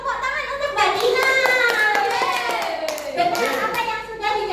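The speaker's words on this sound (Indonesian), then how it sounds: "Tepuk tangan untuk Mbak Dina." Classroom applause for a student named Dina, clapping mixed with loud, overlapping children's voices throughout.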